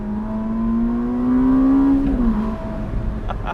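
A 2022 Ferrari SF90 Spider hybrid sports car engine revs up with a rising, steady tone, the pitch climbing then easing back as it keeps accelerating close by.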